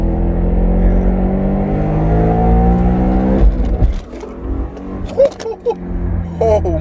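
A BMW E92 M3 launches hard, its engine climbing steeply in pitch for several seconds before an abrupt shift and cut, followed by brief scrapes and knocks from inside the car.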